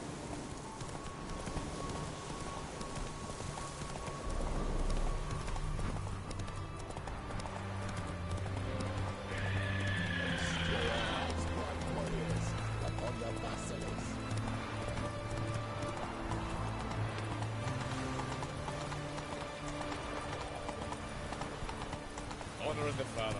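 Roach, the horse in The Witcher 3: Hearts of Stone, gallops with steady, rhythmic clip-clop hoofbeats that run throughout, under game music and voices.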